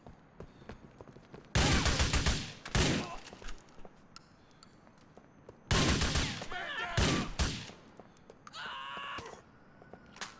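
Gunfire in GTA 4: two loud bursts of rapid shots separated by quieter stretches, with a few sharp follow-up shots and faint background game sounds.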